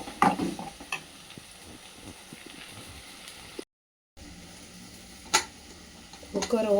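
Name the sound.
onions sautéing in a pan for mutton fry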